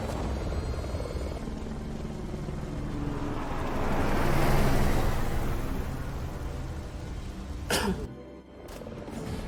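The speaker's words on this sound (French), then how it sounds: "je savais pas qu'on pouvait contrôler carrément l'hélicoptère" A helicopter in a horror video game drones with a loud, steady rotor wash that swells in the middle, then cuts off abruptly after a sharp crack near the end.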